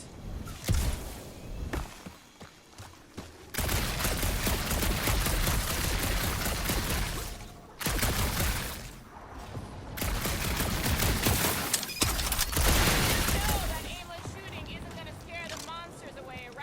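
Bursts of heavy gunfire from the Guardians of the Galaxy video game come in long, loud sustained runs. Short pauses break them up, with talk and game sounds mixed in.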